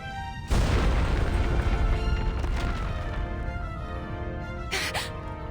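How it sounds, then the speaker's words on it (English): A loud explosion in the video game Reverse: 1999 bursts in suddenly, followed by a long rumbling, crackling decay over a sustained musical tone, with a second sharp hit near the end. "Is that an explosion?"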